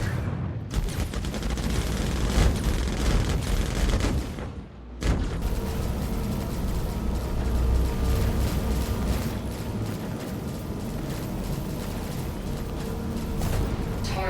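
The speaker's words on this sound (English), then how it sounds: "that's a lot of freaking bullets" Sustained, dense automatic gunfire and explosions in the space game Star Citizen, loud and continuous with a brief lull near five seconds before the barrage resumes.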